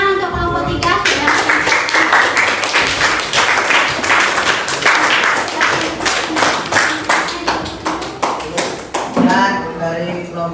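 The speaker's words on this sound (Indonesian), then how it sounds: "Boleh beri tepuk tangan untuk kelompok 3 ya." An audience claps and applauds for a presenting group in a classroom setting. The clapping is dense and sustained for about eight seconds, with a voice speaking briefly before and after.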